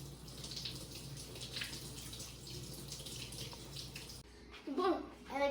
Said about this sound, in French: il faut bien se laver les mains avant de reprendre le batteur